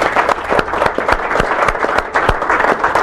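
Audience applause at a press announcement by the Dunkirk mayor about the Great Lakes Offshore Grand Prix speedboat race, a steady dense clapping of a sizable crowd with sharp individual claps standing out, loud and continuous throughout.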